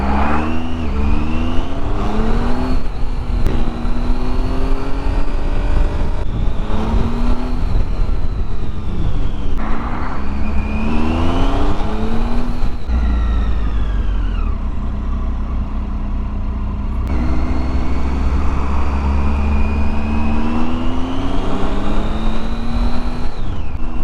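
Riding a 2017 Triumph Tiger 800 motorcycle through road traffic: a loud, steady engine drone whose pitch climbs and drops through gear changes, with constant rumble and wind noise throughout.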